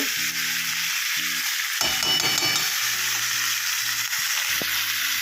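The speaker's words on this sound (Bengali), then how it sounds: "নাড়াচাড়া করতে হবে মশলা কষানো যেহেতু হয়ে গেছে" Fried spice paste for a Bengali fish curry with potato and lentil dumplings is stirred in a hot pan, giving a steady close sizzle broken by scraping strokes of a spoon, with no talk over it.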